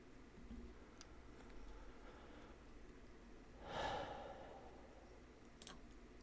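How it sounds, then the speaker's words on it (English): Soft, close breathing into a microphone, slow and quiet, with one heavier exhale swelling midway and a couple of faint clicks near the end. "Sorry that you can hear my breathing."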